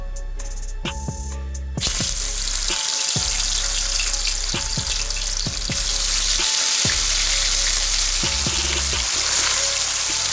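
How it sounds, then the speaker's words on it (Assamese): Kandhuli fish frying in hot oil in a wok: after a brief quieter start it bursts into a loud, steady, close sizzle, broken by a few sharp clatters of utensils. "এতিয়া তেল দি মাছখিনি আগে ভাজি ল'ম।"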